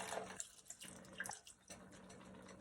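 Broth pours and splashes into a pan holding chicken for tacos, a close, gentle liquid trickle with soft spatters, no voices.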